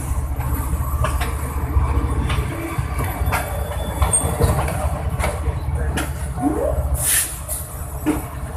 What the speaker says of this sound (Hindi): एक लाइट लोकोमोटिव एनएलसी का आ रहा है।